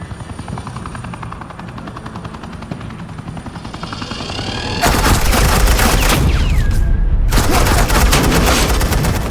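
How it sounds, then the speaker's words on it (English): A helicopter roars continuously in the Batman video game, then sharp bursts of suppressing gunfire break out, loud and dense over the rotor noise. "This is Agent Quinn, suppressing fire."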